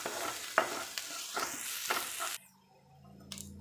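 Chopped onions sautéing in a pan, with a close, steady sizzle broken by several spatula scrapes and taps before the frying noise suddenly drops away to near quiet.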